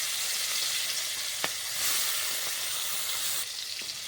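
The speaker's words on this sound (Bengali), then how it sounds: "তেলটা গরম হয়ে গেছে, আমি মাছগুলো দিয়ে দিচ্ছি তেলের মধ্যে।" Prawns frying in hot oil, giving a dense, steady close sizzle and hiss with a few sharp pops and spits, loud and continuous with no talking.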